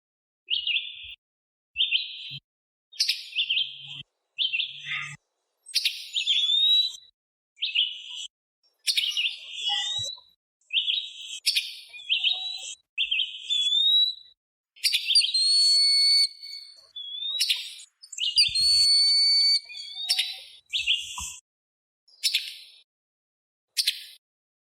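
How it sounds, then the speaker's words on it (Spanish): Migratory birds calling in a series of short, high chirps and whistled notes, with repeated bursts and brief pauses between them; clear and fairly close, with no other sounds. "Estos son algunos de los sonidos de las aves que hacen migración."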